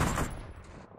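An old sniper rifle fires once in PUBG on the Taego map, a single sharp, loud report that fades quickly into a short echoing tail.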